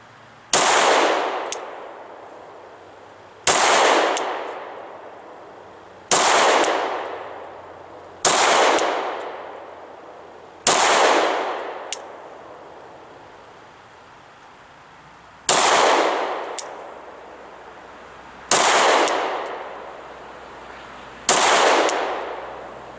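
Eight loud pistol shots from a Glock 23 Gen 4 fitted with a red dot sight, fired one at a time at a steady pace of about one every two to three seconds, each with a sharp crack and a ringing tail, no talking.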